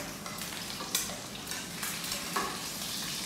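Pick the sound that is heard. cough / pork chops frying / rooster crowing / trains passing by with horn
pork chops frying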